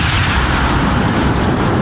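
The giant Project HARP cannon fires a probe in one huge, sustained blast that fills the whole clip with a dense, roaring boom and no break or quieter tail.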